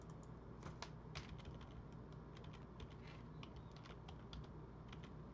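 Rapid keystrokes on a new computer keyboard tap out an irregular clatter, close and steady throughout, with a low room hum beneath and no talking.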